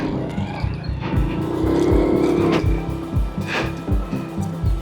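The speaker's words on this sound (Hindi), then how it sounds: "छोटी बाइक है ना, ऊपर जाने में ज़रा ज़ोर तो लगेगा।" A small motorbike engine laboring as it climbs a steep track in a remote mountain valley in Chitral, a loud steady drone with revving surges and rattles close by.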